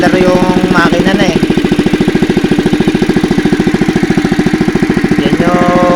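A small engine, used to pump air for underwater river fishing in San Rafael, Bulacan, chugs steadily with a fast, even rhythm close by, while people talk over it.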